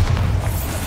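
The Bombarda spell going off in the video game Hogwarts Legacy, a loud, close, deep booming blast that rumbles on for the whole moment without any voices.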